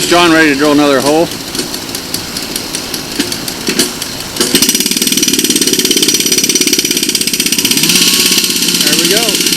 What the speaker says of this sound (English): Firing up the whacker.